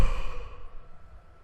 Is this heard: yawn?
yes